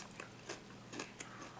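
Crunching bites of a sweet-salty caramelized coffee snack, a few sharp chewing crackles spaced irregularly, close and fairly quiet with no talking.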